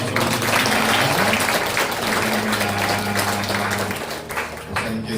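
A church congregation claps together during an anniversary worship service, a full, steady round of applause that fades near the end, with organ or keyboard tones sustained underneath.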